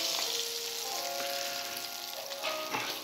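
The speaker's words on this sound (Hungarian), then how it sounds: "Szép lassan át süldögél." Crucian carp fry in oil in a pan, giving a steady close sizzle and crackle throughout with small pops and stirring clinks.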